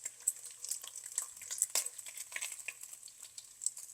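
Bacon frying in a pan, with a continuous soft sizzle and crackle and small pops as the strips are turned with a fork, close and fairly quiet without speech.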